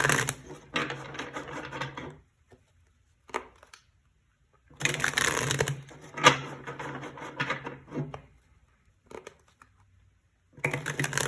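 Tarot cards being shuffled by hand, close and fairly quiet, in three rapid riffling bursts of about two seconds each, separated by silent pauses and a few soft taps.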